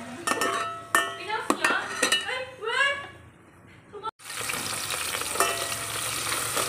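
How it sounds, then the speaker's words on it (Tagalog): Onion and tomato sauté in a pan, a steady sizzle behind metal utensil clinks and scraping, with someone talking over the cooking at first. "Dito na ako naggisa"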